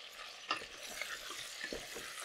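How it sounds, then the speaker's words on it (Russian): Onion frying with chicken wings and thighs in a pot over high heat, a steady close sizzle broken by a few sharp stirring scrapes and clinks, with no voices. "и обжариваю минуты 2-3 до прозрачности лука"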